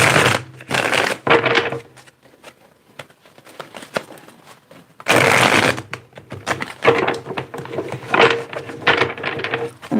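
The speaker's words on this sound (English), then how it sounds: "I'm going to get 3 more shuffles and we'll get started here." Tarot cards are shuffled by hand in several bursts of papery riffling and flicking, close and fairly loud, separated by quieter pauses.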